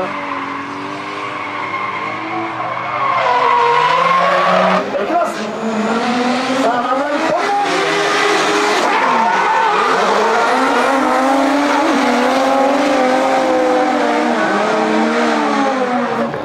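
A car runs along a ripple strip at racing speed. The engine revs, and tyres squeal and rumble over the kerb in a loud, wavering roar that surges and falls for the whole stretch.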